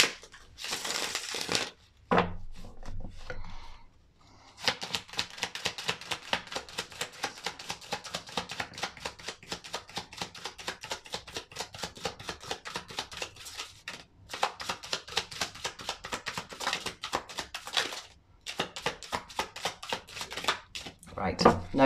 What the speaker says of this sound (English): I'm going to have to pull more cards for that because I can't not pull more cards for that.